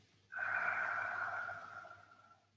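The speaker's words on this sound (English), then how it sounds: "breathing in, breathe out." Slow guided exhalation during a shiatsu session for heart and pericardium stretches: one steady, airy breath out starts sharply, holds for about two seconds and fades gradually, close and fairly loud with no talking over it.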